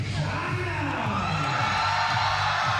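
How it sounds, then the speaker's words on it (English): Chinese fans cheering and whooping at a 3x3 basketball game at the FIBA 3x3 Asia Cup finals, a dense, loud, sustained crowd roar with rising yells throughout. "Chinese fans letting their team hear it."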